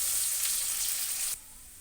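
Sliced onions crackling in hot oil in a wok, a bright, close sizzle that runs steadily and then drops away abruptly to a quiet background hiss.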